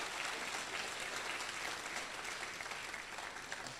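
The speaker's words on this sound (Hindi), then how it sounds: "एक बार तालियां सब बजा दीजिए सबके लिए।" Steady, sustained applause from an audience at the Bhiwani Gaurav award ceremony, a broad wash of many clapping hands heard at an even level throughout with no pause.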